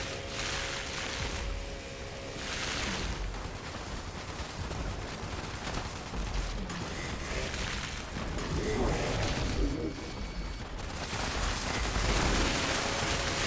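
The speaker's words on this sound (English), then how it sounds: "Nice, you got the machine gun on him." Machine gun fire in a Fallout game battle against a Deathclaw, heard as repeated rapid bursts and booming impacts over several seconds, loud and dense, mixed with other combat noise.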